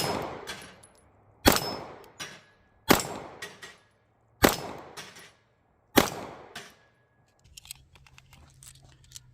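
Five sharp, loud shots from a Stoeger STR-9 9mm pistol, spaced about 1.5 seconds apart, each with a short decaying echo, followed by softer handling clatter.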